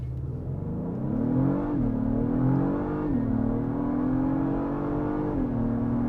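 An Acura MDX Type S SUV accelerates hard, its engine note climbing steadily then dropping briefly at each of three upshifts, heard from inside the cabin with no talk.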